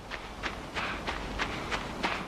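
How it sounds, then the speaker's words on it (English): Steady footsteps fall in an even rhythm, about seven soft close steps over a quiet background hiss. "like things you'd only hear really close up, like footsteps"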